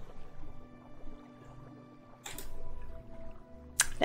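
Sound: swimming in water in Morrowind video game

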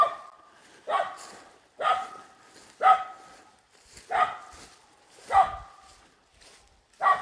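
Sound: dog barking

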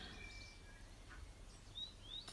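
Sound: birds singing in the background

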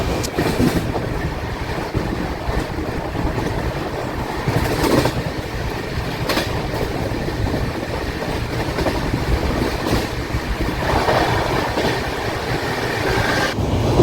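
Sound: Tirumala Express train running, Kadapa to Guntakal

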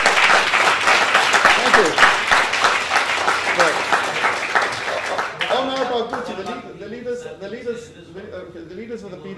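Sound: audience applause

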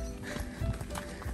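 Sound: horse hooves clip-clopping on a walk

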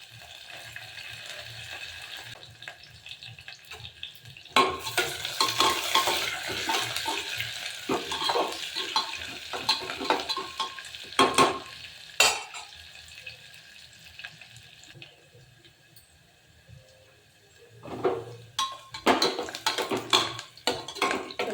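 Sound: curry leaves and onion frying in oil, stirred

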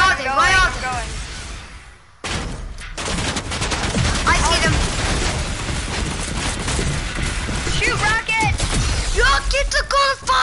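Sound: gunfire in a video game

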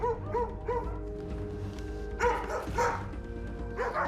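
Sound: dog barking inside a house

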